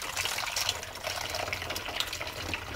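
Water is poured steadily into a container in a continuous, even splashing gush at moderate loudness, close by, with no voices.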